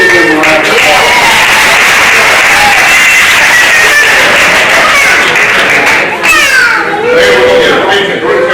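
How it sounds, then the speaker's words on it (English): Loud crowd applause at a city council meeting, mixed with excited children's voices and chatter that rise over the clapping throughout. "So let's give them a round of applause."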